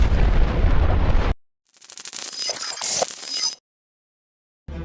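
Explosions at the port of Beirut in August 2020: a loud broadband blast roar cuts off abruptly, followed after a gap by a second rumbling burst with crackling debris, then silence.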